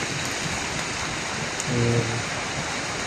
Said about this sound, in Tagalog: Nabutan naman tayo ng ulan dito sa kalagitnaan ng ating paglalakbay.